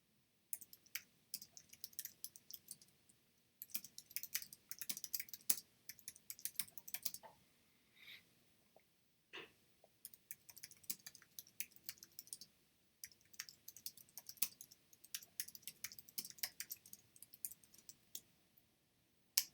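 Question text being typed on a computer keyboard, quick bursts of soft key clicks separated by short pauses, faint and close with no talking.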